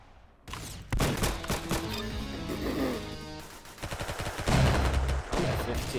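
Rapid bursts of grease gun fire in the Roblox shooter Arsenal, loud and close, crackling in dense repeated volleys over a background of game music, with heavier bursts near the end.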